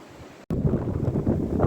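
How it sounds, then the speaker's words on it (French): Wind blows across a hiking trail in the Luberon, buffeting the microphone with a low rumbling roar that drops out briefly before returning stronger and steady. "Il y a du vent."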